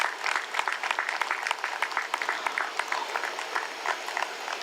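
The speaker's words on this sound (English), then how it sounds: "Claps, please." An audience at a literary festival book launch applauds, a dense, steady patter of many hands clapping close by with no talk over it.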